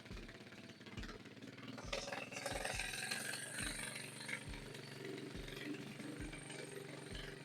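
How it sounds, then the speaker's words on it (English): A small engine in a tiny kids' buggy runs after a one-button start, giving a steady, rough, rapidly pulsing idle with rhythmic low thumps that stays loud and close throughout. "one button to start the car"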